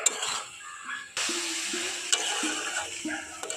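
A coconut and sesame mixture for laddus is stirred continuously in a pan over medium heat, giving a steady scraping and frying texture with a few sharp clicks, close and moderately loud, with no talking.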